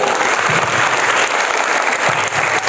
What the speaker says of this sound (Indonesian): Tepuk tangan guys, tua